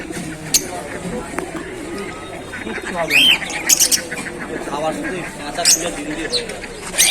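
Pigeons at a stall in a busy rural market squawk and flutter in short bursts close by, heard under ongoing talk from people around them.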